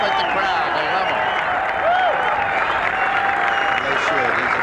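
A golf gallery at the 1989 U.S. Open at Oak Hill applauds a finishing player, sustained loud clapping and crowd noise that stays constant throughout, with a commentator's voice faintly mixed in.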